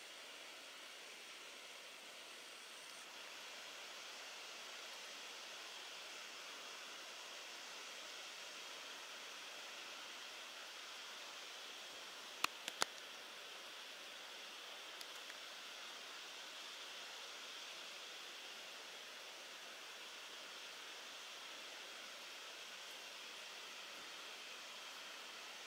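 A steady, broad rushing roar of Bambarakanda Falls in Sri Lanka, heard from a distance and constant throughout, with a couple of brief clicks midway.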